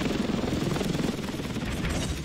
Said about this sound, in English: I'm using the helicopter